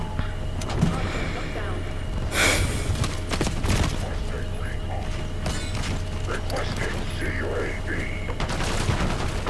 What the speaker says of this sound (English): Haven't used this gun yet.